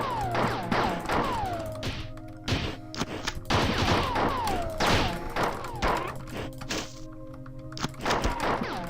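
Dual-wielded guns in the retro shooter Marathon, repeated heavy shots in quick irregular volleys, each with a falling tonal tail, loud and close over a low steady ambient hum.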